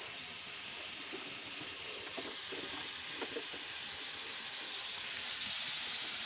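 Duck meat lightly frying with spices in an outdoor cooking area, a faint steady hissy sizzle with a few soft clinks of a utensil, no talking.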